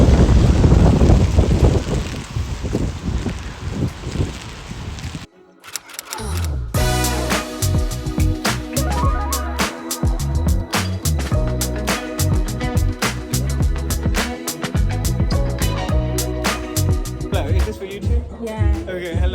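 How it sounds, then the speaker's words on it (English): Strong outdoor wind buffets the microphone with a loud, low, gusty rumble for the first few seconds, then gives way to steady music. "Very windy here."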